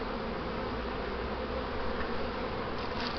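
Honeybees humming at a beehive during an inspection: a dense, continuous close-up drone from many insects, steady and loud, with no voices.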